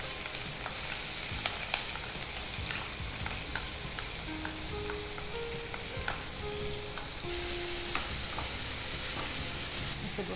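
Onions and green chillies fry in a pan with a steady, close sizzle and hiss, broken by occasional stirring scrapes and clicks across the whole stretch, no voices.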